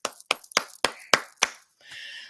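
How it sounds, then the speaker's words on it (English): Six slow, evenly spaced hand claps, sharp and close, each ringing briefly before the next, followed by a soft hiss at the end. "Y'all, slow clap."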